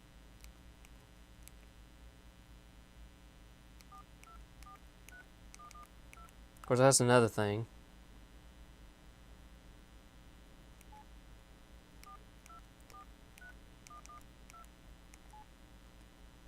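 A quick burst of several telephone dialing tones from a Samsung Galaxy S4 stands out clearly from a quiet hum, while a person talks briefly.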